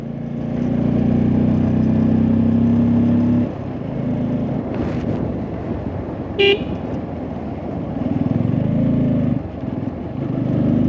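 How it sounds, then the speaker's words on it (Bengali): A motorcycle engine under heavy throttle on a steep, uneven climb, a loud close drone that dips and surges again, with a brief horn toot partway through. "থ্রটল দাও বাইকে"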